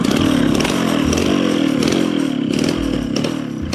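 A motorcycle engine revs hard and continuously up close, a loud raspy roar with rattling clatter and slight dips in pitch, no voices.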